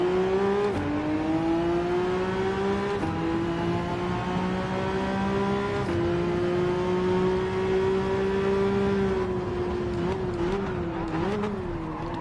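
Group 4 BMW race car in a video game at the Nordschleife, engine droning steadily and climbing through the revs with brief dips at gear shifts, loud and close throughout with no talking.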